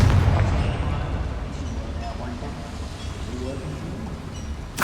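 Confringo fire spell blasts in the Hogwarts Legacy video game: booming explosive bursts with rumbling low end, loudest at the start and again at the very end, over continuous game sound.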